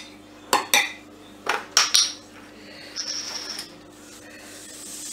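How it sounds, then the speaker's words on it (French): A small spoon clinks against dishes while salt is added to a potato salad cake: several bright, sharp metallic taps in quick succession, followed by a softer scraping rub, close and clear without talk. "Je vais juste mettre une petite cuillère."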